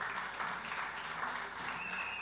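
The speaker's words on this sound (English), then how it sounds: "another round of applause for the hard-working councillor" Audience applause at a United National Congress political meeting, a dense, continuous clapping from a crowd that stays loud and steady throughout without any talk over it.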